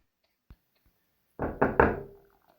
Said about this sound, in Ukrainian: хто це до мене стукає? Зараз відчиню двері і подивлюся.